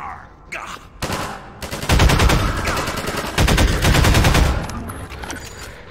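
Turret gunfire in the Half-Life 2 video game rattles in two long, rapid automatic bursts, loud and close, with a short gap between them and scattered game noise before.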